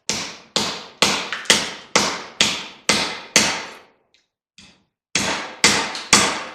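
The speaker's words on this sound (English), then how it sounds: "So give me a pair of hammers." Hammer blows strike copper parts of 225 amp breakers, about a dozen sharp ringing metallic hits in a steady rhythm, with a short pause and a faint tap before the last few strikes, close and loud.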